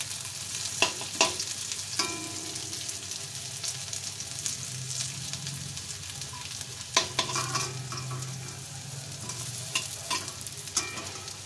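Food fries steadily in oil in a pan on a home stove, a continuous close sizzle broken by several sharp clicks and scrapes of stirring, with no talking.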